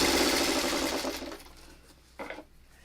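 A sewing machine stitches patchwork pieces in a rapid, close burst that slows and stops, followed by a short second run of stitching, with no talking.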